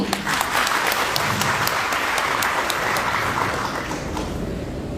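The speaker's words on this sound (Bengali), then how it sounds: "আপনি ওখানে বসে হাততালি দিবেন, আপনার জন্য দেখবেন তারপরে অনেকেই হাততালি দিবেন" Steady applause from an audience at a talk, many hands clapping continuously and fairly close for the whole stretch, with no voices standing out.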